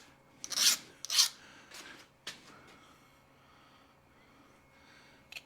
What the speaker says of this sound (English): always try and deburr them before I put them in with the rest of it.